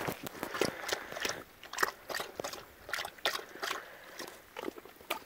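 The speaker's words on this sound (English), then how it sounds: "A water break for Momo." A dog laps water in quick, wet, rhythmic slurps, close by, with small splashes between laps.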